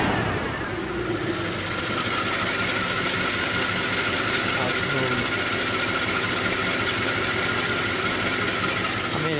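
A 1942 Cadillac Series 62 two-door fastback coupe idles with its exhaust running, a smooth, steady engine rumble that holds evenly and close throughout.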